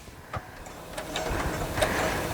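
A domestic sewing machine stitches an Open Gate quilt with Dove thread, a steady close mechanical whir with rhythmic needle ticks and a few soft clicks as it runs, no talking.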